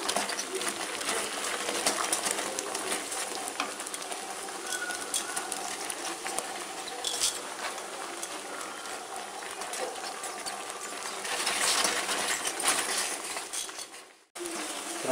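Fried grated coconut being stirred in a pan while making sweet coconut candy, a steady scraping and sizzling patter that runs continuously, swelling slightly near the end before a brief cut.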